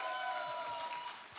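Steady audience applause at the A1 Academy global launch event, a broad continuous wash of many hands clapping at moderate distance with no voices standing out.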